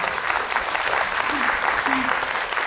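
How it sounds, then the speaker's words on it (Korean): Audience applause fills the room with a dense, steady clapping that holds at full strength throughout, loud and unbroken, with no speech above it. "이 박수는 제 딸이 받아야 될 것 같아요."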